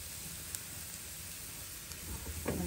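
Thin pancake batter sizzling in a hot frying pan, a steady faint hiss with a few soft pops and crackles growing slightly toward the end.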